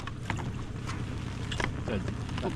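Small fishing boat outboard motor just started, running steadily on the water during a father-and-son fishing trip, with wind noise and faint voices in the background.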